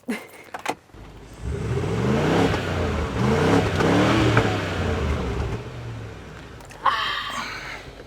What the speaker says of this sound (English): start it up and give us some revs